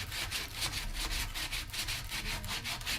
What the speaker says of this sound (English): I'm just going to take the edge off of it with a sander